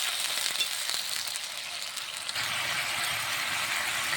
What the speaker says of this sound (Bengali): মশলাটা ফুটিয়ে নেব